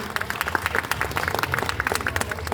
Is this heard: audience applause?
yes